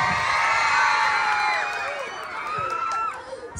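Crowd cheering and shouting at a trans pageant national costume parade, a dense continuous roar of voices with whoops, loud and sustained before easing slightly toward the end.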